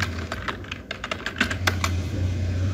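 A computer keyboard is typed on at close range, a quick irregular string of crisp key clicks over a low steady hum, with no talking.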